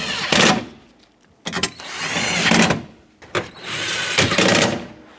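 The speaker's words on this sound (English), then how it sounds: "and bolt it back up" A tow mirror bracket is bolted back onto the door of a 2007–2014 Chevrolet Silverado 2500HD with a power tool, heard as three loud, close bursts of whirring separated by short pauses.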